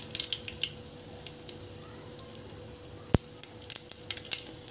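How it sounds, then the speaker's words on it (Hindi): Mustard seeds crackle in hot oil over a low, steady sizzle, with scattered sharp pops and one loud snap partway through, close by and without any talking. "अब हम इसके अंदर थोड़ा सा राई डालेंगे।"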